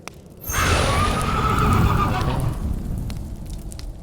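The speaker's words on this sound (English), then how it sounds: "you summon your fiend horse once again" A fiend horse summoned during a tabletop role-play gives one loud, drawn-out whinny that starts after a brief quiet moment and then trails into a sustained rough breathy rumble, with no talk over it.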